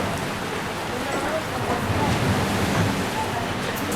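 Steady broadband wash of Sea of Marmara surf rolling in at Kinaliada, Turkey, continuous and fairly loud, with gusty wind noise blending into the roar.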